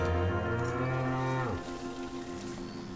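Cattle mooing in the Baja California desert: one long, loud, close moo that slides downward and trails off, with a quieter outdoor background afterward.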